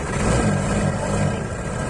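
A rotary injection diesel engine fresh from an overhaul, running steadily with a dense, rough rumble that stays loud and close throughout, alone without voices.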